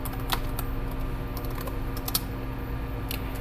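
Keys clatter on a computer keyboard as a terminal install command is typed, several quick clustered taps followed by a few scattered strokes over a steady low hum.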